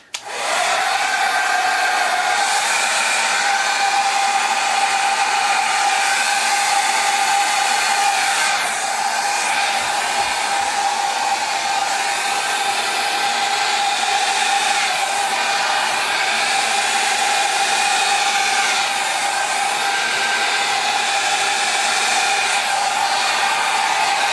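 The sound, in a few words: hair dryer blowing on metallic paint fluid art pour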